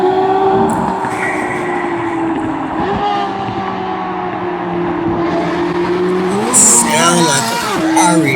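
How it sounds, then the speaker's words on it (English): A murdered-out C8 Corvette with a swapped-in V12 and aftermarket exhaust gives a sustained, loud, high-pitched engine wail with rising and falling revs, while people talk over it. "It's probably just a V12 exhaust."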